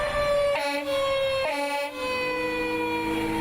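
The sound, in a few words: fire truck siren heading out on a mock call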